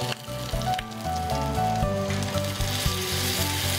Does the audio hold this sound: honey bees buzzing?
no